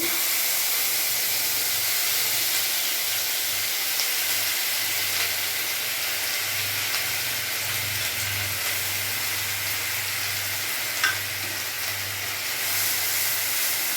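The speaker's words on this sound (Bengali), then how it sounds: "এর মধ্যেই আমি এখানে যে মশলাটা পেস্ট করে রেখেছি এটাই আমি এখন দিয়ে দেবো" Spice paste fries in hot oil over a raised gas flame while cooking kochu loti, producing a continuous, fairly loud hiss and sizzle that holds steady throughout with a low background hum and no talking.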